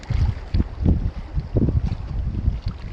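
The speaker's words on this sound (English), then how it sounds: "Kind of cool and windy." Cold gusts of wind buffet the microphone outdoors on a solo canoe trip in the Boundary Waters, rumbling in low, uneven bursts throughout, loud and close.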